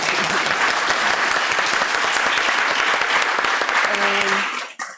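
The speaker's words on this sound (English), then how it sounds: "Big applause." A crowd claps steadily for several seconds, dense and loud, before the applause cuts off abruptly at the end.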